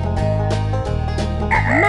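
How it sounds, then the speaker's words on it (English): Chicken clucks in a kids' farm animal stacking game, a brief cluck or two near the end over steady background music. "Chicken."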